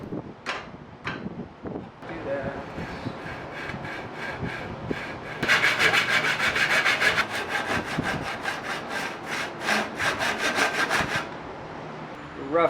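A hand saw cuts wood for an axe handle close up, starting with a few scattered strokes, then settling into a fast, steady back-and-forth rhythm of rasping strokes before it stops.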